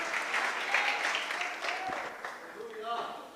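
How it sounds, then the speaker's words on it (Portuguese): Church congregation applauding during a service, a steady wash of clapping with voices and calls mixed in throughout, fairly distant and moderate in level. "Vamos aplaudir o Senhor nesta manhã."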